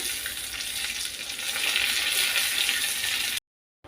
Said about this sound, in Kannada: ಬೆಳ್ಳುಳ್ಳಿ ಹಾಕ್ಕೊಂಡಿದ್ದೀನಿ ಇದಕ್ಕೆ ಕರಿಬೇವು ಸೊಪ್ಪು ಮತ್ತು ಎರಡು ಮೆಣಸು ಹಾಕ್ಕೊಂಡು ಚೆನ್ನಾಗಿ ಫ್ರೈ ಮಾಡಿ